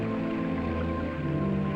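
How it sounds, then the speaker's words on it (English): Simulated rain from an equipment rain test, a steady dense hiss of falling water with a low hum, faint and continuous throughout, with no talk. "And rain tests."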